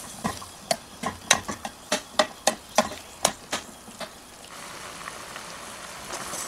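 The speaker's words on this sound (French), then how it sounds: "Je vais ensuite rajouter les potirons et je vais les laisser cuire pendant environ 15 minutes." Pumpkin pieces go into a reduced caramel syrup: a run of sharp, close knocks and taps, then a steady soft bubbling and sizzling hiss as the pieces simmer.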